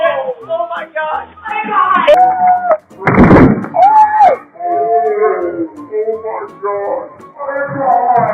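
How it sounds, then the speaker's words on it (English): A sharp thud as someone runs into a glass door, brief and loud, amid excited talking and a dog howling nearby. "Did you just run into a door?"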